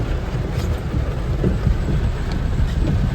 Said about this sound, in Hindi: इतना जोर से बारिश